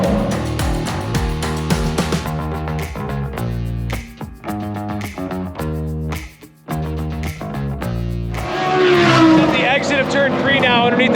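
IMSA race cars roar through the Corkscrew at Laguna Seca, loud engines revving and shifting as they pass close in succession, with a voice talking over them.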